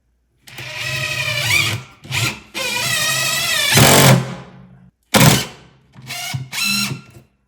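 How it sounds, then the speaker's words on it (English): A power drill boring holes while mechanical systems are installed: a motor whine that revs up and down in several bursts of varying length, close by and fairly loud, with short gaps between them. "So I'm gonna mark out my holes and get them drilled."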